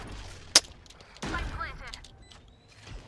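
Gunfire in the first-person shooter Valorant, a single sharp shot followed by a burst of rattling weapon fire and mechanical clatter, with a voice talking over part of it.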